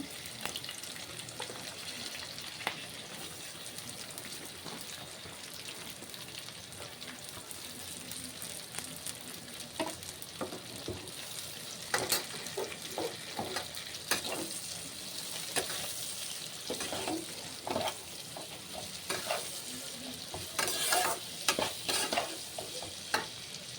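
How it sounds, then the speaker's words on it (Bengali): Chopped onions sizzle steadily in a hot pan, with occasional stirring scrapes and clinks cutting through the continuous frying hiss. "পেঁয়াজটা ভাজা ভাজা ভালো করে, অল্প ভাজা না, ভালো ভাজা হবে পেঁয়াজটা"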